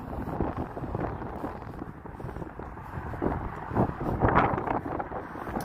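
Strong wind buffets the microphone on a morning walk outdoors in Las Vegas, a loud rumbling roar that surges and eases in gusts, heaviest toward the end.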